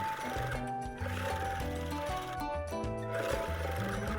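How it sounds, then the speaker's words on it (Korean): A sewing machine runs in quick rhythmic bursts, stitching fabric for a tote bag with brief pauses between runs, its mechanical chatter close and steady. "고정시켜 놓은 것들을 재봉틀해주세요."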